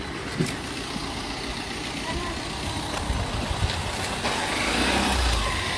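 Bus engine running rough and heavy on a narrow road while the bus is wedged against a tractor, a steady low rumble throughout with voices talking over it.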